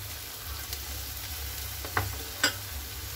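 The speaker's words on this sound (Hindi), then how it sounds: "तो देखिए, अच्छे से फ्राई हो रहा है" Capsicum and onion fry with ginger and garlic in a pan for restaurant-style aloo paneer chilli, a steady soft sizzle running throughout with a couple of brief utensil clinks near the end.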